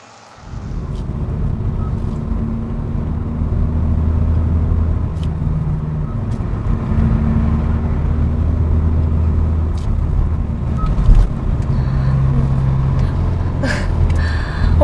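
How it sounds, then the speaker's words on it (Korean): A Hyundai car's steady, throaty exhaust drone while driving, loud and close, holding a low rumble with slight shifts in pitch. "다양한 모드의 배기음을 들으니까"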